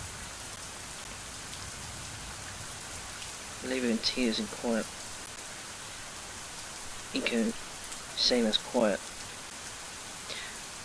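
Rain falls steadily in a video game scene, a constant hiss that runs throughout. A voice speaks in short bursts over the downpour.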